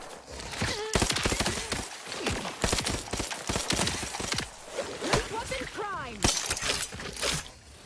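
Rapid bursts of gunfire from a weapon in the video game Outer Worlds 2, sharp repeated cracks in irregular clusters mixed with a speaking voice over the shooting.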